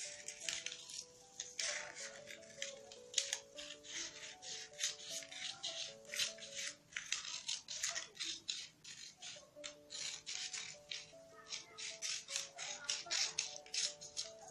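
Scissors snip through a paper bodice pattern in a quick run of rapid crisp cuts and rustles, faint, with soft background music underneath and no talk.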